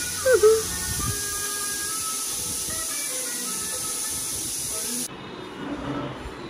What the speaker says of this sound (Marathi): आणि गाण्यासोबत कुकरची शिट्टी पण वाजते